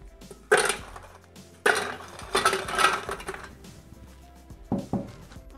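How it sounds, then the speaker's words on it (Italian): Dry biscuits tumble into an empty Thermomix (Bimby) jug in a few separate clattering drops, close and fairly loud, with brief rattles and quieter pauses between them. "senza lavare il boccale mettiamo all'interno i biscotti secchi"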